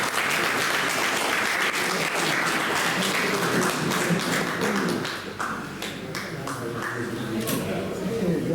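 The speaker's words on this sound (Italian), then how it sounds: "Un applauso a Domenico." An audience claps for a competing poet at a poetry contest, a dense and sustained burst of applause that thins out toward the end while voices carry on beneath it.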